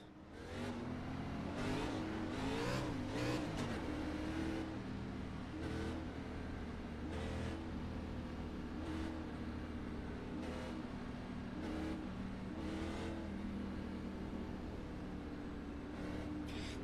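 2006 Cup Series stock cars race at Atlanta Motor Speedway in the iRacing sim, a steady, loud engine drone with revving rises and passing cars sweeping by throughout.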